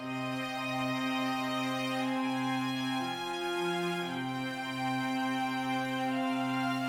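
Layered violin and viola parts hold long, smooth notes in octaves, shifting between chords at a slow, even pace.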